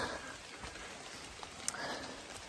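Faint, steady rain patter with a soft hiss and occasional distinct drips, heard from a distance with no voices, on the Appalachian Trail in the morning.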